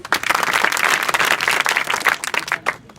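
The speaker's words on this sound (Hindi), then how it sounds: "ताली बजाओ।" Students clap together at a school adolescent education program in Puranibasti, Mubarakpur, a dense, steady burst of applause filling the room for about three seconds.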